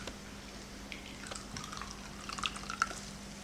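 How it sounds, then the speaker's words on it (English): Hazelnut milk strained through a nut milk bag drips and trickles softly into a container close by, giving faint scattered drops over a low background hum. "I'm just going to strain it through a nut milk bag"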